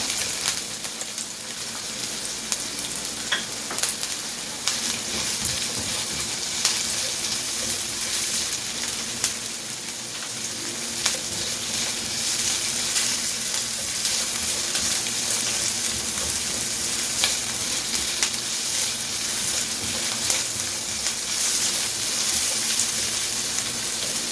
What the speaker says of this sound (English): Okay, so let's saute first the onion.